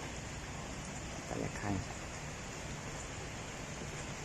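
Rain falls outside beside a river in an industrial area, a soft, steady, even hiss heard from indoors, with a person speaking briefly over it.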